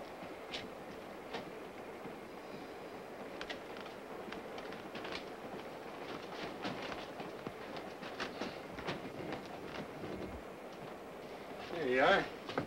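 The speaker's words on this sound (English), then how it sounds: "See the trains they got here." Train rolling past in a 1955 film scene, a steady rumbling clatter of rail cars under conversation, ending in a brief louder swell.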